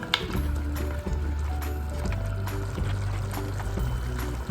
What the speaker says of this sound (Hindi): इसको हम मिक्स करेंगे अच्छा सा ताकि मसाले सारे मिक्स हो जाएं